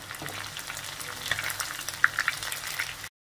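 Chicken beluli kebab frying in oil in a pan: a steady, close sizzle with a few sharp pops and crackles, then an abrupt stop.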